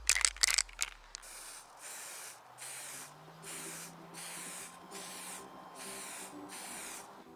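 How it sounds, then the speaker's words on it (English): A spray can of lacquer hisses in a series of short bursts onto a Surform handle, rhythmic and close, after a few sharp rattles at the start. "meaning that I can apply spray lacquer."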